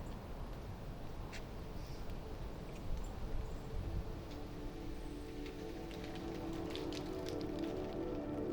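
Gentle rain falls steadily along a ridgeline at sunrise during an autumn hike in New England, a soft continuous patter with occasional distinct drops, no voices.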